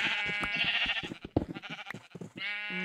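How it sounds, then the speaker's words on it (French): Several sheep bleat in Minecraft, loud and close, the calls overlapping in quick succession with short gaps between them. "Ah, les moutons m'énervent."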